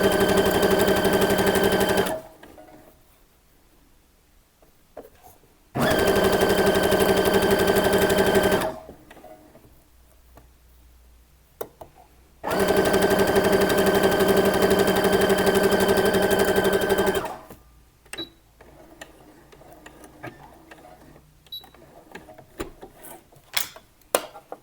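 Sewing machine stitching the seam of a summer dress in three long rapid bursts of several seconds each, separated by quiet pauses filled with small handling clicks and rustles.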